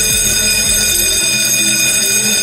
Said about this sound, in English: the fire alarm bell will be ringing